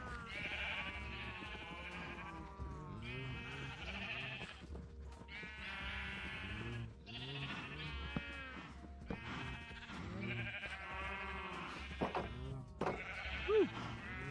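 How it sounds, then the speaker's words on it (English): Sheep in the video game Minecraft bleat over and over for about fourteen seconds, with steady overlapping calls at moderate volume over a low background hum. "Come here, yellow sheep."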